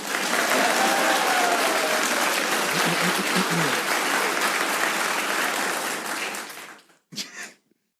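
Loud, dense applause from a studio audience on a talk show about an India versus Pakistan cricket match, sustained for about seven seconds before stopping abruptly, followed by a brief burst of voice.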